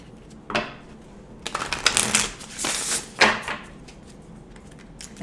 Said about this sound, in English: I'm gonna pull one oracle card for the earth signs